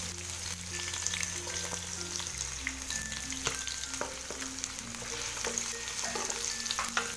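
Onions frying in a pan with golden browned chicken for Chinese-style chicken and vegetable biryani give off a steady, low sizzle, with occasional stirring clinks and soft background music tones.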